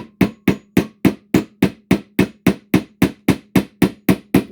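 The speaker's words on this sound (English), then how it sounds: "You're letting the weight of the hammerhead bring it back down and drive the nail." A hand hammer drives a nail into wood while a tool tote is assembled, about fifteen loud, evenly spaced strikes in a steady, quick rhythm, close up and with no talking.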